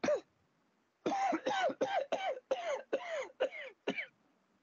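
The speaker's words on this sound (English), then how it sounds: "I need something for a sore throat and can't stop coughing" A man with a sore throat coughs hard and close: one harsh cough, a short pause, then a fast fit of seven or eight rasping coughs in a steady rhythm, with no talking.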